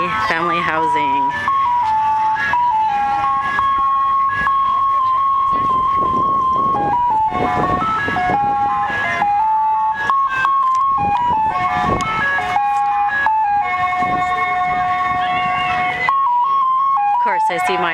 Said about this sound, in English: Here's the ice cream truck at UND Family Housing.